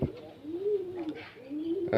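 Pet pigeons coo in their loft, two soft, low rolling coos in close succession, heard near and fairly quiet, with faint rustling between them.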